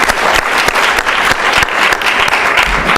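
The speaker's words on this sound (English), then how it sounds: "Engineering Caucus, everyone, big round of applause." Loud, dense applause fills a student government meeting hall as members clap for the engineering caucus, steady and close throughout with a few sharper individual claps standing out.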